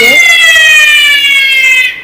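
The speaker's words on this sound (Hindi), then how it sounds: "ये सायरन बजने लगा है ना, ये मतलब सायरन बजने लगा।" A loud, steady electronic fire alarm siren wails nearby, holding a high, piercing tone before cutting off abruptly.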